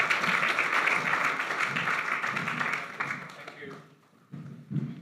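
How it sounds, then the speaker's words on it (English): Applause from an audience at a chamber of commerce evening event, a steady wash of clapping that fades after a few seconds into scattered claps and thumps, with voices present. "Another round of applause for Leon."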